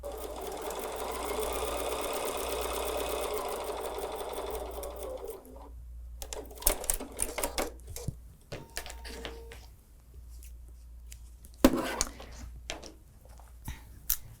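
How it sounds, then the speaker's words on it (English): A home sewing machine runs in a steady, continuous stitching burr for several seconds while sewing a line on a Christmas quilt project, then stops, leaving scattered clicks, fabric handling and light taps close by. "Let's sew on that line."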